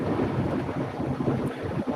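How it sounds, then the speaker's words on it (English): Heavy, buffeting wind rumbling against the microphone inside a moving truck in Missouri, a constant low roar with gusty surges and no voices. "the fucking wind sucks, because like it's windy as shit out here in Missouri"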